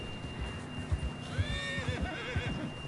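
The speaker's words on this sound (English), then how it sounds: "John was riding that horse when we left Blackwater." A horse in the video game Red Dead Redemption 2 whinnies loudly over a few scattered hoof clops and a low background rumble, with no one speaking.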